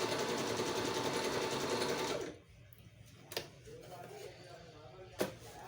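A Singer 5200 sewing machine stitches in a steady close run for about two seconds, then stops, leaving a quiet room with a couple of sharp clicks.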